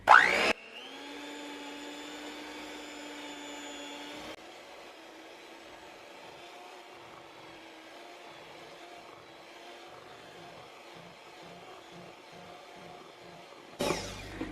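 A stand mixer whips vegan tamale dough in a bowl, starting with a loud steady motor whine that holds for a few seconds, then dropping to a lower, rougher churning hum that runs on steadily to the end.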